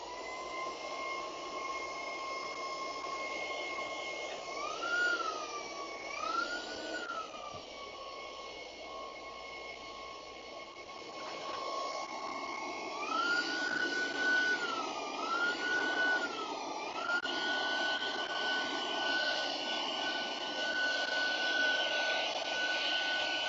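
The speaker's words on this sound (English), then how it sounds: "Let's give this shooty vacuum a go." A handheld shooting-style vacuum from a locksmith's toolbag runs continuously with a steady whining drone whose pitch dips and wavers several times, close and fairly loud, with no talk over it.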